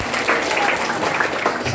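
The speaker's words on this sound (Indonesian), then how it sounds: "Ya, tepuk tangan lagi." Seminar audience clapping in an indoor room at a business motivation event, a steady, fairly loud patter of many hands with a voice talking faintly over it.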